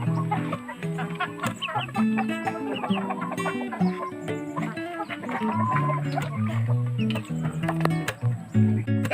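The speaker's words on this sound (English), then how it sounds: "So we already get the eggs with this Dexter's World hen, and also to my other hen there" Several hens cluck close by in a busy, overlapping chorus of short clucks and calls, continuous and fairly loud with no talk.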